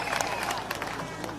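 Crowd at a live political gathering in Meru, Kenya, applauding the honourable member: scattered, irregular clapping from a mass of people, heard briefly under a loud speaking voice.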